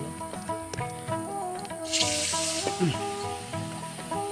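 A burst of hissing sizzle as water hits a hot pan of fried skins, rising sharply midway and settling into a steady bubbling hiss.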